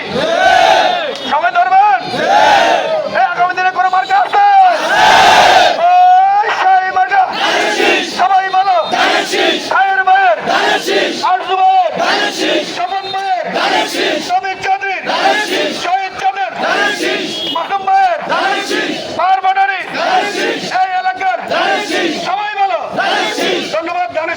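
A crowd at a BNP grassroots leadership election meeting in Char Ruhita union chants political slogans in loud, rhythmic call-and-response bursts, many voices shouting together in a steady repeating pattern throughout.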